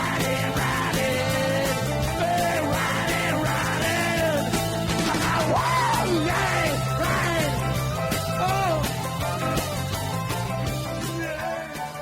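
A loud, full-band rock recording with distorted guitars and drums under the singer's strained vocal, whose pitch swoops upward into raw, screaming wails.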